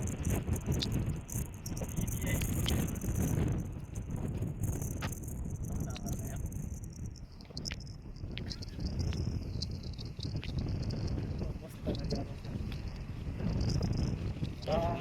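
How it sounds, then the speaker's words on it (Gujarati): Wind blows steadily across a Himalayan mountain road on the way to Kedarnath, a rough low rumble buffeting close to the microphone with gusts that swell and ease throughout. "ચાલુ છે પવન ચાલુ છે"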